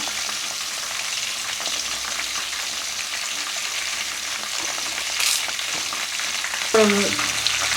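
Mushroom pieces frying in a pan give a steady, moderately loud sizzle that runs throughout, with a couple of brief stirring knocks near the end and no speech.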